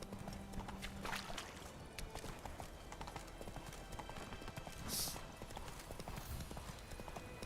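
Horse hooves clip-clop steadily in The Witcher 3, the rhythmic footfalls running under continuous game music and ambience, with a brief brighter accent partway through.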